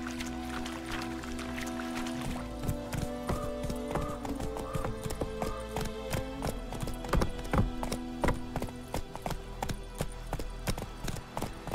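Rhythmic clip-clop of horse hooves at a steady trot in the video game The Witcher 3, over a droning musical background, fairly close and even-paced.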